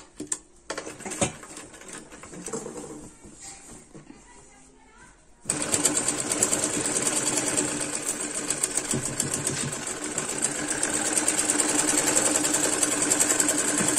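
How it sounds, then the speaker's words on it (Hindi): Sewing machine stitching a belt: a quiet start with light handling noise, then a steady, fast, loud motorized whir with rapid needle chatter that runs continuously to the end. "अब इसे सीधा करके इसके ऊपर दबाने वाली सिलाई लगाएंगे, इसे पक्का करेंगे"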